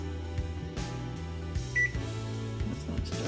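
Microwave oven buttons are pressed in a kitchen, giving a few short electronic beeps over a steady low hum, with one brief high tone standing out partway through.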